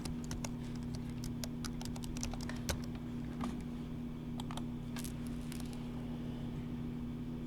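Fingers type a login name and password on a computer keyboard to open a Bloomberg terminal, giving a steady run of close, light key clicks over a low constant hum in a quiet room.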